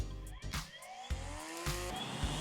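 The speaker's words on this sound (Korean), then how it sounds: "풀이 날에 닿는 순간부터는 마치 폭풍을 일으키는 것 같은 엄청난 힘" A high-pitched motor whine from a Greenworks 40V cordless string trimmer (GW2103873) rises and falls in bursts as the line chews through grass, loud and close, with no one speaking.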